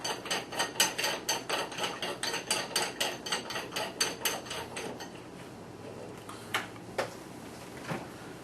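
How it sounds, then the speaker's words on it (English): A barrel nut being fitted back onto a Sig 522 rifle, a rapid run of close metallic ticks and clicks for about five seconds, then a few separate louder knocks, no talking. "Once the barrel is in the receiver, you can simply replace the barrel nut."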